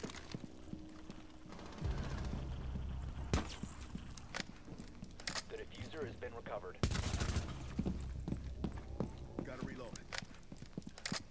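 AK rifle in Rainbow Six Siege: several short bursts of automatic gunfire, loud and close, amid game sounds and footsteps, with a player talking at times.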